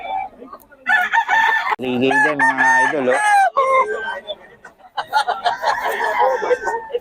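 At a poultry market, roosters crow loudly and close by while chickens cluck around them. One long crow dominates the middle, and someone speaks briefly over the birds.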